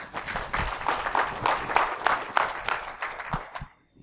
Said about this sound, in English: You set the bar high. You already clapped